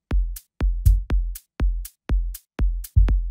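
Organic house drum pattern with the hi-hat shaped by envelope attack processing: seven short, tight hits in an even groove, each a low thump with a brief bright top, dry and close with no talking.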